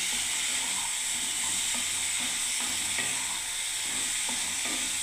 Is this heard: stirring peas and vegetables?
yes